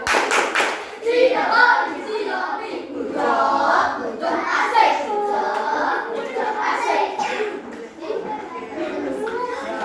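Schoolchildren in a classroom perform a rhythmic 'good job' clapping cheer, chanting together in unison while sharp claps punctuate the beat, lively and close for about ten seconds.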